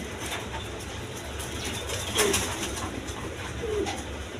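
Indian Bombay pigeons, a pair kept for sale, coo softly with a couple of low, brief calls against steady background noise, no voices present.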